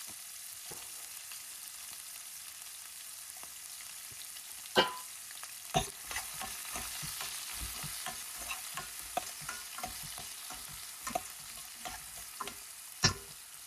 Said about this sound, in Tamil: கடுகு பொரிஞ்சோடனே ஒரு மீடியம் சைஸ் வெங்காயம் கட் பண்ணி வச்சுருக்கேன், அதை போட்டுக்கலாம்.